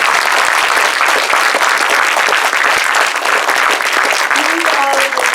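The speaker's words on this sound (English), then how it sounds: "Let's have a hand of applause for all of our candidates." An audience at the Three Minute Thesis 2025 final in Charlotte applauds the candidates with loud, continuous clapping that fills the room from start to finish, with a brief voice surfacing near the end.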